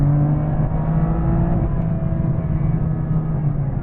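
A tuned 2021 BMW M2 Competition accelerates at full throttle, its engine a loud, sustained drone heard from inside the car, with pitch climbing steadily and no one talking.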